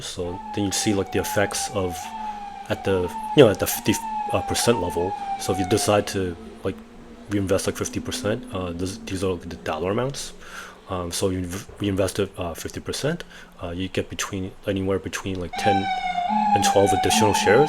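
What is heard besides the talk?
ambulance siren outside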